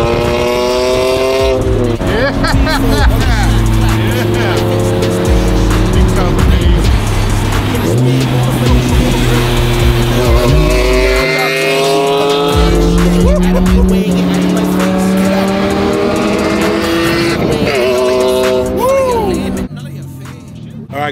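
A BMW M3 wagon with a Valvetronic exhaust drives nearby, its engine repeatedly revving up through rising tones between gear changes, loud and throaty the whole way. A voice briefly speaks, and the sound drops off sharply at the end.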